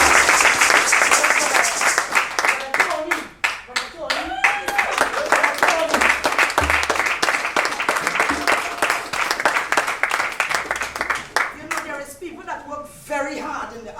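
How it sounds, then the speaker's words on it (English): Church congregation at an anniversary service clapping for Mother Debbie, sharp rhythmic claps in a lively steady beat for most of the stretch, near and loud, with voices and speech rising over it toward the end. "Brethren, I would like you to give Mother Debbie a round of applause."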